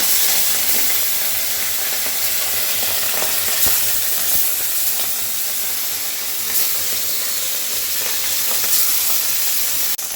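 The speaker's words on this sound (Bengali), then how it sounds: "তেল গরম হয়ে গেছে এবার মাছগুলো ভেজে নিচ্ছি" Swamp barb fish sizzle loudly in hot oil, a continuous crackling hiss with occasional sharper pops, close up and with no talking.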